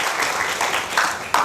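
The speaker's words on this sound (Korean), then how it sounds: "우리 박수 해주세요" A church congregation claps for children at a Children's Sunday service, a short spatter of scattered applause with a few sharper claps standing out.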